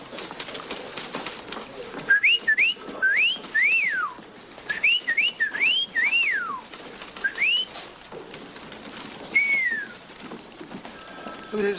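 Someone whistles a series of sliding, birdlike calls in irregular bursts, imitating a bird, with a steady hiss of background noise.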